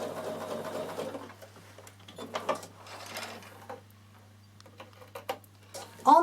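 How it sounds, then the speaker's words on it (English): A Bernina sewing machine runs in short bursts of mechanical whirring and ticking while top stitching a hem with a twin needle, quiet and close, with pauses between runs. "So nice long stitch because you are top stitching. And that is how you do your twin needling both sides."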